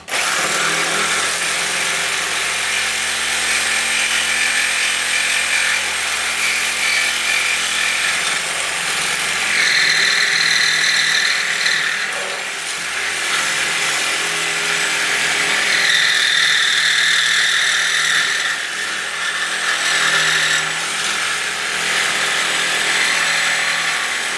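A power tool cutting into a Model A Ford brake part, giving a loud, continuous high-pitched grinding whine that runs steadily throughout, with changes in pitch and tone as the cut progresses.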